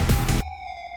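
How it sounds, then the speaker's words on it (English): A siren layered into a remake of a song: a dense burst of music cuts off into a steady, tonal electronic wail that holds at an even level. "they just add the siren sound"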